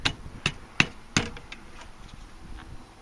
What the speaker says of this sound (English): I'll just take my ratchet handle and tap on that.